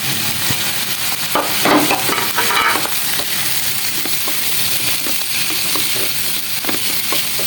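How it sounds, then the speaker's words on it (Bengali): Onions hitting a hot pan and frying for a Chinese-style vegetable dish, a loud continuous sizzle with a swell of crackling as they go in, followed by light stirring scrapes. "এখন আমি পেঁয়াজ দিব।"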